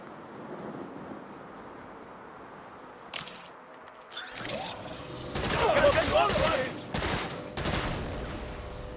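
A new gun firing in the game Saints Row, quiet hum at first, then sharp bursts of shots and clattering, glassy impacts growing louder in clustered volleys toward the end.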